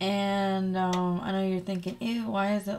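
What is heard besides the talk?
None of the usual background noises is heard.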